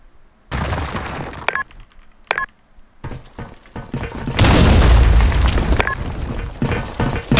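Loud blasts and bursts of gunfire in BlackShot, with a rocket launcher explosion booming out mid-clip and continuing rumble and shots around it.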